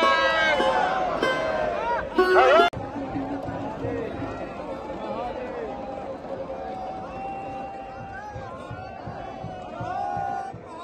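A dense crowd of pilgrims mills about at Mahakumbh 2025 in Prayagraj, a continuous murmur of many voices with occasional shouts, while a nearby voice talks over it.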